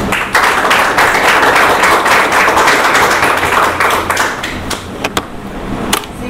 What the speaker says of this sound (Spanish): Pido a ustedes un aplauso para él